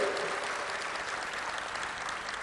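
Audience at a Hindi poetry recital clapping for a poet, a steady dense burst of applause held at an even, moderate level.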